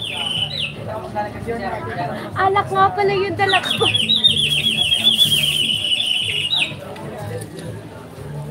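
A bird gives a rapid series of high chirping calls, loud and close, while a person speaks over the start and middle.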